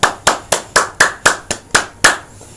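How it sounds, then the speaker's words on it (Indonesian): Nine slow, evenly spaced hand claps, crisp and close, each a separate sharp hit with nothing else around it. "Tepuk tangan."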